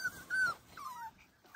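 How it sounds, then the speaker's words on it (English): Young puppy at a puppy camp giving thin, high whimpering yips and whines, close and fairly quiet, in a few short rising and falling bursts. "Don't bark at Auntie Aurora."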